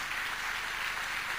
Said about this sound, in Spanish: Anímate y dale un fuerte aplauso al Señor